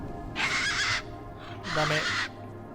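Two harsh, raspy caws from tough desert birds in the video game Beyond a Steel Sky, each about half a second long and loud, separated by a short pause, over a low steady background hum.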